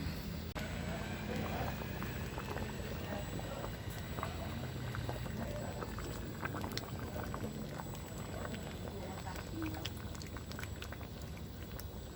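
Water bubbles and simmers steadily in a pan, a continuous soft rolling boil with small pops throughout.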